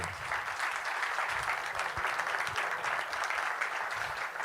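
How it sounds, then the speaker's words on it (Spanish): Steady, even applause from an audience at an urban development and real estate developers' conference, welcoming architect Roberto Converti; a continuous wash of many hands clapping, moderately distant and without a break. "Son los aplausos para recibir al arquitecto Roberto Converti"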